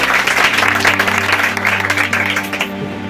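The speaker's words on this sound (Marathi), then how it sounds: "एक जोरदार टाळी येशू ख्रिस्तासाठी." A church congregation bursts into loud, sustained applause for Jesus Christ, dense clapping close by that starts strong and thins slightly toward the end.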